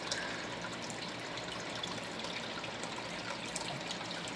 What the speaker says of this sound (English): Pumps water up out from that corner up there, wraps it around, runs through the creek.